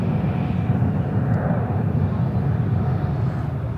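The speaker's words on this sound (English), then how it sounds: "Amazon Air just coming in on the 767." An Amazon Air Boeing 767 cargo jet approaches to land at Charlotte airport, its engines a steady, fairly distant broadband roar that holds evenly throughout with no talking.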